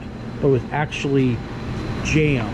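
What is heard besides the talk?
heater running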